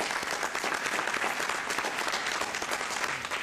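Applause for neighborhood residents at a city council meeting, dense continuous clapping from the audience in the chamber, steady and fairly loud throughout.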